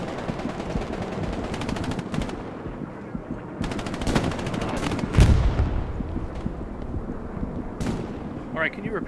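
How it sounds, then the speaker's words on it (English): Rapid machine-gun bursts in the World War II shooter Hell Let Loose, set in the Hurtgen Forest, rattle loudly in long sustained volleys with short gaps and a heavy blast midway, under scattered distant gunfire. "Hey boys, watching the machine gun."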